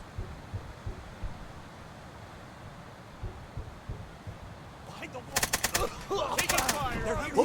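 MP5 submachine gun fire from the tactical shooter Dagger Directive arrives late as quick, sharp bursts of shots over a low, quiet game ambience.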